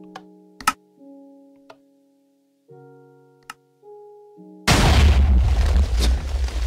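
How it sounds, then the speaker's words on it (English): In Minecraft, a TNT cannon goes through its firing sequence: sparse clicks and ticking tones over near silence, then a sudden loud, sustained rumbling explosion that fills the end of the clip. "let's let this thing off"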